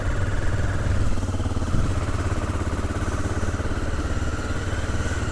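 A motorcycle engine runs steadily at a close, even idle-to-low throttle as the rider sets off on an offroad trip, a continuous mid-pitched rumble with no voices over it.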